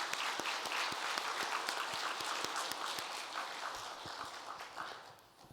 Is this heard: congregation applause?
yes